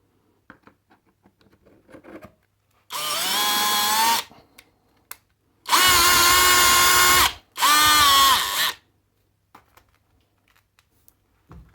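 A power drill bores a dowel hole guided by a KWB dowel jig, in three loud bursts of whirring motor noise separated by short pauses, with quiet handling sounds before and after.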